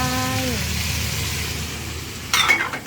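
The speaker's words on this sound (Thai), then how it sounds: "ผัดหมูให้หอมแล้วก็ ใส่ดอกนิ้วที่เราทอดเอาไว้นะคะลงไ" Pork stir-fried in a hot pan for khanom jeen nam ngiao gives a steady, close sizzle, with a clatter of utensils near the end and a voice briefly at the start.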